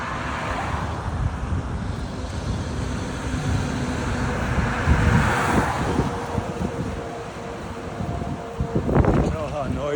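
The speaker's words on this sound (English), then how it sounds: "Noisy it is with all the car noise." Steady roar of passing road traffic with wind buffeting the microphone, continuous and fairly loud throughout.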